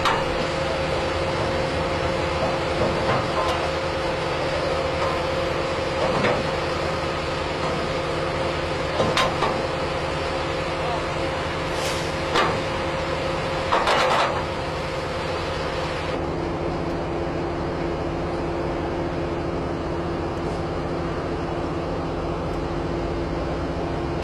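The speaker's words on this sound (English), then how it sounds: "Harsco Rail's new track construction machine." A Harsco Rail track construction machine works steadily on a rail line, giving a continuous loud mechanical drone with a steady tonal hum, broken by several sharp clanks and hisses throughout.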